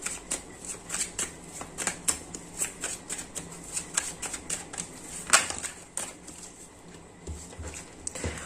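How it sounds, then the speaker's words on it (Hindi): Cards shuffled by hand during a tarot-style reading, a rapid series of crisp riffling flutters and soft slaps repeating in quick bursts, close and clear with no talk. "सो शफलिंग चलेगी अभी।"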